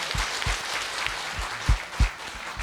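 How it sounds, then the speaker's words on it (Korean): An audience at a public debate forum in a hall gives a short round of encouraging applause, a loose spread of hand claps with a few sharper claps standing out, fading off quickly. "저를 위해서도 한번 격려 박수 한번 부탁드리겠습니다"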